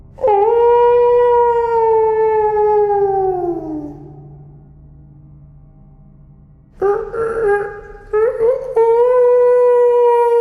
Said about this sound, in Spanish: el aullido volvió, pero esta vez sonaba como un lamento.